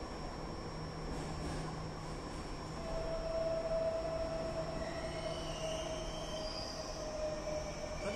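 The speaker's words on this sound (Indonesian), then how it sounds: "kita bisa dengar suara dari MRT ini karena kosong ya, jadi tus-tus-tus-tus gitu" An empty Jakarta MRT train car running on its rails, a continuous metallic rumble with a thin high wheel squeal rising and fading, steady and close with no voices.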